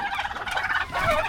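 Turkey tom gobbling on a farm, a dominant male's rapid rattling gobble rolling through the whole clip at moderate distance, with a second louder burst near the end and no talk over it.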